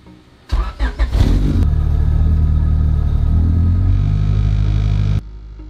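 An engine-swapped Honda Civic Estilo with a VTEC engine accelerating from a near standstill, a loud close engine roar that blips and revs at first, then climbs steadily in pitch before dropping to a quieter idle.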